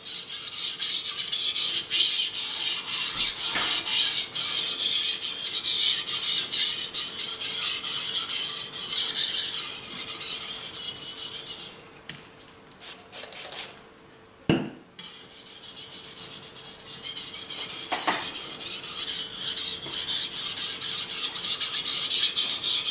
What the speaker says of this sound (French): La lame glisse bien sur